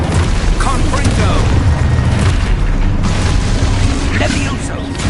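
Booming Confringo blasting spells from the video game Hogwarts Legacy: loud, dense explosive bursts with rumbling low end and mechanical clatter that fill the whole stretch almost without a break.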